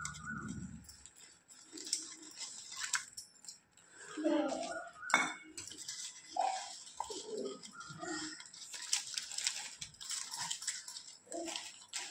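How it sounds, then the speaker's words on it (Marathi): Fish marinade being mixed with water in a pot: quiet wet stirring with scattered spoon-on-metal clinks and light sloshing, intermittent and close, with faint background voice at the start. "हे सगळं मिश्रण आहे ना ते या भांड्यात एकत्र करणार आहे मी पाणी टाकून"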